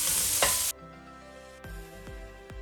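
Vegetables frying in a pan over medium heat. A loud sizzle fills the first moment, then drops to a quieter simmer broken by a few soft knocks of a utensil against the pan.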